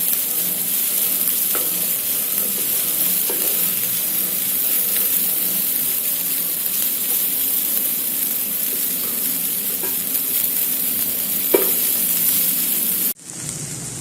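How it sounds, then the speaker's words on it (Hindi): A fajita chicken filling with soy sauce sizzles loudly and steadily on a high flame for over ten seconds, with faint stirring scrapes underneath and a sudden drop near the end. "अब हाई फ्लेम पे इसे मिक्स करें।"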